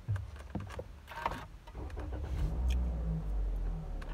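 A car engine turns over and starts, a low rumble building and settling into a steady idle after a few faint clicks and knocks inside the car.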